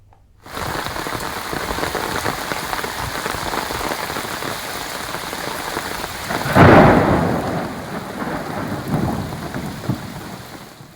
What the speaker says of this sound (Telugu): హైదరాబాద్ భారీ వర్షం కురుస్తుంది.